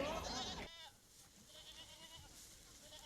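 Goats in a newly built pen at a livestock unit in Sadong District give a loud bleat up close, followed by fainter bleating from the herd behind it.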